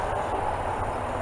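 Distant interstate highway traffic forms a steady, continuous low rumble and broad hiss at a moderate level, with no speech over it.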